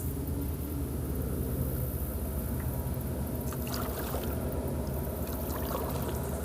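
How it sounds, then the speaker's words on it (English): Loud diesel dredging barges on a lake produce a constant heavy engine rumble and broad churning noise that holds steady throughout, with faint water splashes near the end. "They got these really loud diesel barges on the back of them. They make the ground shake."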